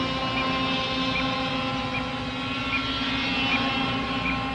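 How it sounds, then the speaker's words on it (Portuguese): A radio-controlled helicopter flies in wind during tornado research, giving a steady droning buzz with a sustained hum and faint regular pulses, continuous and fairly close throughout. "É a hora da última experiência com o helicóptero controlado por rádio sob essas condições."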